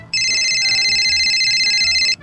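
A mobile phone ringtone plays loud and close, a bright repeating electronic melody that starts abruptly and cuts off after about two seconds, with no talking over it.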